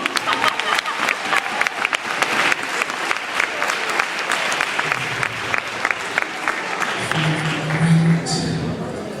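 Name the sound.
audience applause at high school hypnotist show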